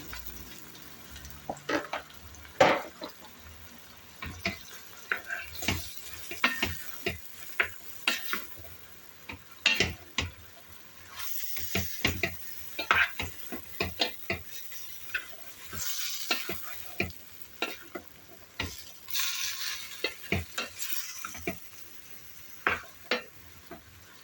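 Borlotti beans tipped into a pan of sautéing vegetables in olive oil for pilaki, then stirred: repeated scraping spoon strokes and clatter over a steady sizzle, close and fairly loud, with no talking.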